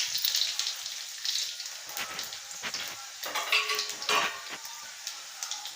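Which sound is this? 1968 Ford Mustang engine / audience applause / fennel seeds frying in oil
fennel seeds frying in oil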